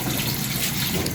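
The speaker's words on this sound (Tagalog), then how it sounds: "Hugas-hugas si Aya ng mga tasang ginamit namin" Tap water runs steadily over used cups being washed in a sink, a continuous close, even rush of water with no talk.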